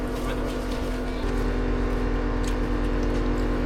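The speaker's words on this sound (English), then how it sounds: "That is strong wind there now." Strong storm wind roars steadily outdoors as a loud, continuous broadband rush with a low rumble, gusting slightly stronger partway through, with no talk.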